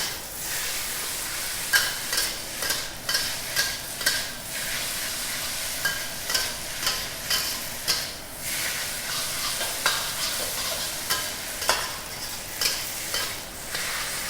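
Flat kuey teow rice noodles sizzle in a hot oiled wok while a spatula stirs and scrapes them in a regular rhythm, about a dozen sharp scrapes over a constant frying hiss.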